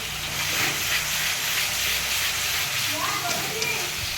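Spice paste with turmeric powder fries in oil for a jackfruit and prawn curry, giving a steady, close hiss and sizzle throughout.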